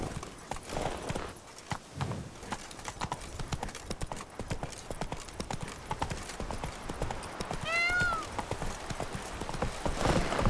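Hooves of a horse in The Witcher 3 video game clip-clop steadily at a run across the whole stretch, with a short whinny near the end, layered over busy game ambience and brief talk.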